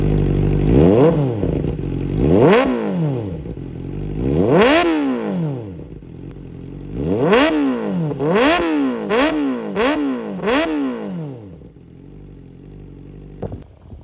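A motorcycle fitted with a new exhaust muffler is revved close up in a series of rising and falling throttle blips, first spaced apart and then in quicker bursts, loud and clear, before settling toward idle.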